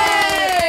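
A karaoke crowd cheers and shouts in one short, loud, dense burst of whoops and yells.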